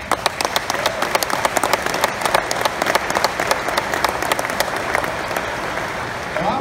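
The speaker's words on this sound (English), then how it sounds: "Give yourselves a round of applause." An audience applauds at a Volkswagen corporate event in Chattanooga, with dense, steady clapping from a large crowd filling the hall for several seconds.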